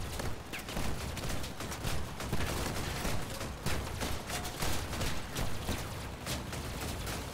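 Rapid, continuous shotgun fire in a multiplayer shooter game, dense overlapping blasts at a steady rhythm with no talk, fairly quiet overall.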